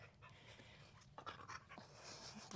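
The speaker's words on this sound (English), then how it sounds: "I'm just gonna pet this dog real quick." A dog pants quietly in a room during a vinyasa yoga session, with a steady rapid breathy rhythm heard faintly and alone.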